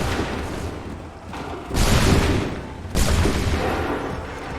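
Two loud, rumbling musket volleys fire in Assassin's Creed 3, each a sudden broad blast that trails into noisy echo, about a second apart, over a busy battlefield din.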